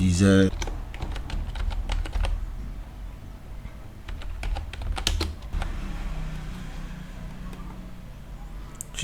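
Typing a text prompt on a computer keyboard: bursts of quick, close key clicks come in clusters with short pauses, under light background hum.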